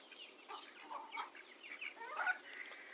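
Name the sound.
chickens and ducks feeding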